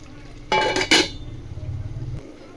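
A metal lid set down over a pot of mutton curry with two quick close clanks, followed by a low steady hiss of cooking underneath.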